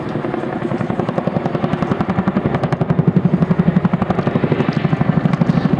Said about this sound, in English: getting the helicopter quickly out of range of enemy small arms fire